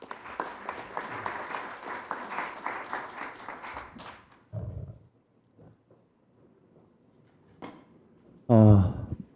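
At a policy debate forum, an audience claps as a lawmaker is welcomed to the podium, a dense burst of applause lasting about four seconds before fading into near quiet, followed by a few brief sounds and a voice.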